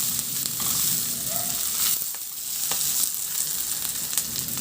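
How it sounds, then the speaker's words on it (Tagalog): Onion and ginger sauté in a hot pan with a loud, continuous close sizzle, and a few brief scraping stirs cut through the frying. "Isunod ko na rin yung sibuyas. Maglagay din ako ng luya. Ihalo lang din hanggang sa maglabas ng aroma."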